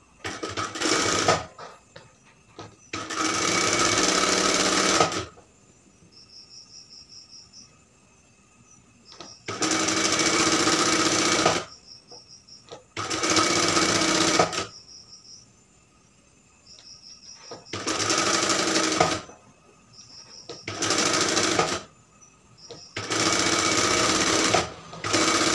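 A sewing machine stitches a straight seam on a kameez in about seven loud, close bursts of rapid whirring, separated by quiet pauses filled with faint high ticking.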